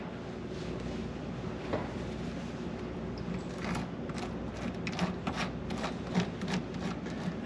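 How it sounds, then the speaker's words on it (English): Honeycomb is scraped during honey harvesting, a steady rough rubbing and rasping texture with repeated short strokes, close and moderately loud, with no talking. "I'm gonna have to scrape it a little bit."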